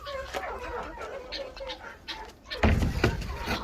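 Turkeys clucking and gobbling in a coop, a steady stream of bird calls with farmyard background noise and a louder, denser burst of calls toward the end.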